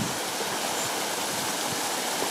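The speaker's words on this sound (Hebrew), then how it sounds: "זה מפל כאילו אחד המטורפים שראיתי פה עד עכשיו." A waterfall along a river, heard as a steady, broadband rush of falling water that stays even throughout, close and continuous, with no voices over it.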